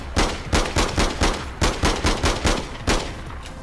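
Automatic gunfire in the online shooter game APB Reloaded, a loud rapid burst of about a dozen close shots in an uneven rhythm, with a short pause before a final shot.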